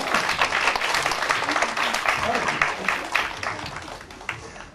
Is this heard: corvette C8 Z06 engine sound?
no